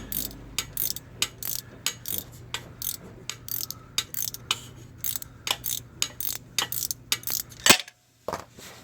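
A ratchet wrench tightens the starter bolt on a GMC Acadia from underneath, giving a steady run of close, crisp clicking strokes with brief pauses and one sharper metallic clunk near the end.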